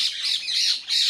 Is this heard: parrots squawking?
yes